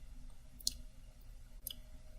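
Two crisp, quiet computer mouse clicks about a second apart, made while selecting a virtual machine in a cloud security portal, with near silence between them.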